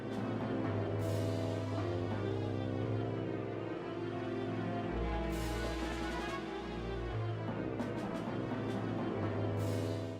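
Boss battle music for Morpheal's first phase from the video game Twilight Princess, a dense sustained orchestral loop with deep bass swells and shimmering high accents, steady and instrumental with no voices.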